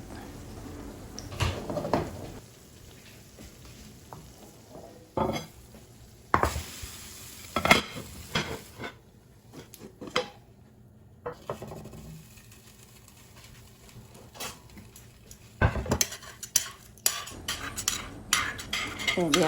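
Pan noises while a vegetable tortilla is flipped: scattered metallic clinks, scrapes and knocks of a pan and utensil in sharp, irregular bursts over a quiet background, loudest near the start and again toward the end.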